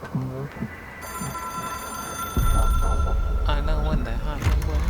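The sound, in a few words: telephone ringing in the video game Control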